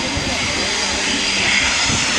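A 2010 Royal Air Force Tucano display plane at the RIAT Fairford airshow makes a loud, steady engine roar overhead while an announcer talks over it.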